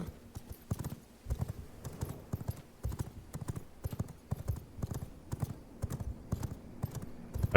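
Horse hooves clip-clop in a steady, quick rhythm as a mount is ridden in the V Rising video game, the close, even beats continuing throughout with no one talking.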